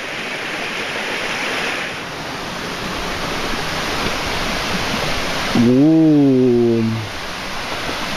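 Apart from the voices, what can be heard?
waterfall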